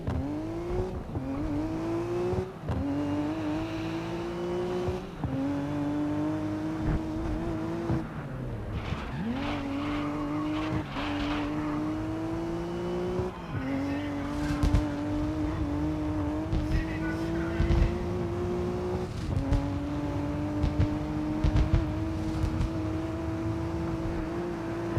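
Racing cars in GRID Legends, engines revving in a long run of rising notes that drop at each gear change, loud and steady with occasional tyre squeal.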